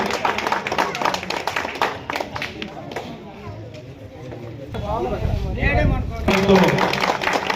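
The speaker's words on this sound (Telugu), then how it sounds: "గట్టిగా చప్పట్లు కొట్టాలి" A crowd claps at a Vinayaka Seva Samithi temple gathering with a community meal, a dense run of hand claps up front that gives way to people talking nearby.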